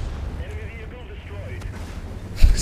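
A single heavy tank cannon shot from World of Tanks booms near the end over a low rumbling engine drone, with someone talking during the clip.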